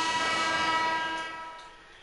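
Horns blaring in the NBA 2K20 basketball video game, a loud sustained tonal honk that holds and then fades out, with no speech over it.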